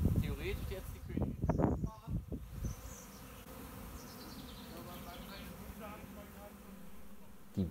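A honeybee swarm being caught in a bucket hums with a steady insect buzz through most of the stretch, under loud nearby talk at the start.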